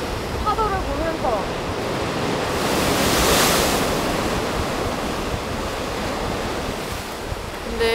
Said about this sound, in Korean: 파도를 보면서.